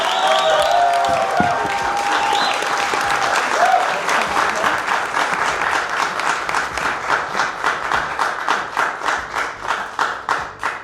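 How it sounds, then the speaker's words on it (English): Applause for an honoree at a Women of the Year ceremony, a large crowd clapping loudly, settling into steady rhythmic claps that fade toward the end, with brief talk at the start. "Big round of applause for Angela."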